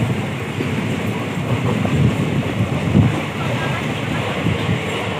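The Katwa–Azimganj passenger train pulls into platform 2 at Khagraghat Road station in light rain, giving a steady, loud rumble with faint clickety-clack and wind buffeting the microphone, while a voice talks alongside.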